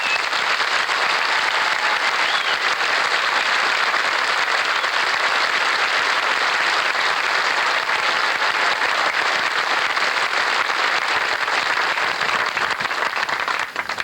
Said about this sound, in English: they deserve a solid round of applause of appreciation